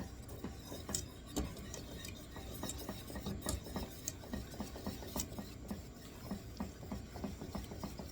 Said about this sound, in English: so I am going to stir in the sugar